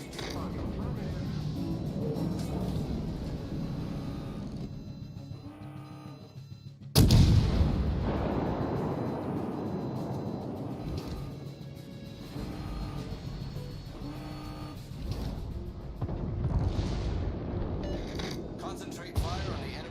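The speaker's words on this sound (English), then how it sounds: "Concentrate fire on the enemy warship." Heavy naval gunfire booms in World of Warships Legends, a British heavy cruiser trading shots in a sea battle, with a sharp loud blast near the middle among rumbling engine noise and game sounds, and a voice speaking throughout.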